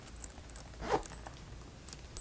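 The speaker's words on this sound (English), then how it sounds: "It's a very thick felt, and it has zips on the side," Zip pulled along the side of a thick felt bag organizer, a quiet rasping run with a brief louder burst in the middle, heard alone.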